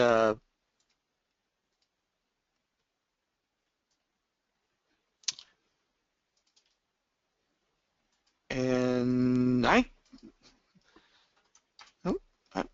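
A few quiet, isolated computer mouse clicks sound in a mostly silent room while building a Power BI report, with brief bursts of voice before and after them.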